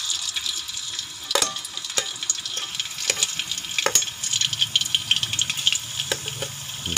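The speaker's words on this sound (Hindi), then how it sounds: "सबसे पहले घी के अंदर हम अदरक और लहसुन का पेस्ट शामिल करेंगे।" Ginger garlic paste sizzles steadily in hot ghee, a dense, bright hiss running the whole time, with a few sharp scrapes and knocks from stirring breaking through.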